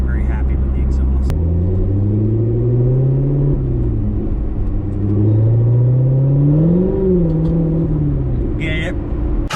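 A 2019 Corvette ZR1 fitted with an AWE Touring exhaust idles with a deep, steady rumble and rises into a couple of slow, swelling revs before settling back, loud and close.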